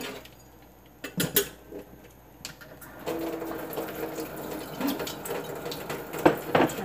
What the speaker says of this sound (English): I'll make my dish water.